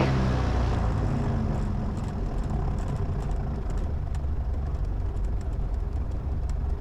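A piston engine on a 5,000-pound airplane idles during a pre-flight run-up check, a loud continuous close-up rumble with a steady throb that never lets up.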